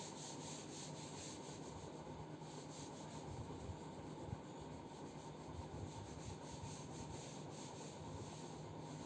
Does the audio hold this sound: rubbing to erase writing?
yes